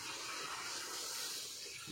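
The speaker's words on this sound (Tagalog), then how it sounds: "Tapos lagyan natin ng" Water pours steadily into a pot being filled for Lucky Me instant noodles, a soft continuous hiss that stays faint throughout with no talk over it.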